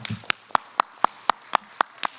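Steady rhythmic clapping at a Tongass public rally, sharp evenly spaced claps about four per second, close and fairly loud, as someone walks up to the microphone.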